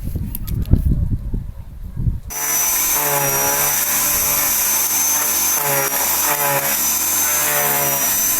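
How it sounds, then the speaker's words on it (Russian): A Sterwins 2500 electric garden branch shredder grinding dry branches, starting after a couple of seconds of rustling and handling noise, then a loud, steady high-pitched motor whine and clatter continuing unbroken to the end. "Измельчитель работает довольно шумно, но эффективно."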